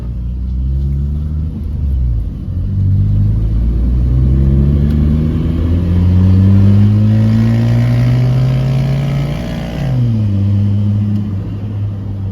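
A car fitted with a GA16 engine revs up and down in loud, sustained sweeps, the pitch climbing and falling several times before settling back toward idle near the end.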